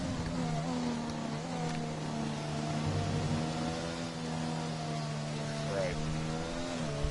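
Race car engines in a PS4 racing game at a Belgium circuit: a steady, droning multi-car engine tone with slight pitch shifts as cars hold speed, faint and continuous throughout with no clear talk on top.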